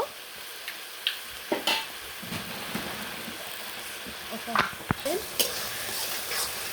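Ground spices such as coriander powder being stirred and fried in a pan for a shapla and rohu fish dish, with a steady low sizzle broken by sharp scrapes and clinks of the spoon against the pan.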